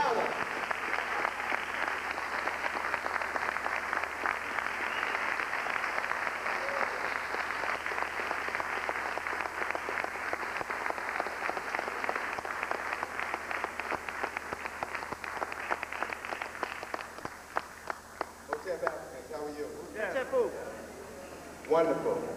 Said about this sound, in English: Give a long round of applause to Brother Tony Browder.